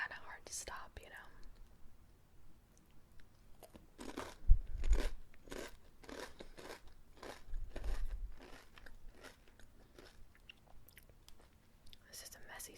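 Crunchy homemade reindeer chow, a Christmas snack mix, being bitten and chewed in a quiet series of close, crisp crunches, with soft whispering heard between bites.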